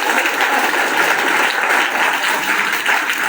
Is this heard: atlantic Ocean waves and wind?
no